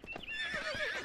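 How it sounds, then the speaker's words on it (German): A horse in the survival game Myth of Empires gives a loud, drawn-out whinny that wavers up and down, preceded by a few brief snorting sounds, with no talk. "Ein Pferd!"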